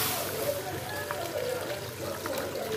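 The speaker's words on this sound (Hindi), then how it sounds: "अब इसके अंदर हम पानी डाल देंगे।" Water poured into a pot of fried meat with onion and garlic for Arabic mandi, a soft continuous trickle and splash with a voice talking over it.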